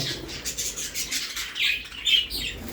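Jumbo budgerigars in a pet shop, a busy chatter of high chirps and tweets from several birds with occasional wing flutters, moderately close and without talk.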